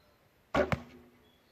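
A single arrow loosed from a custom Ghost Bows flatbow, a quick soft thump of string release followed almost at once by a second snap, then a short fading hum; quiet and close, with no voices.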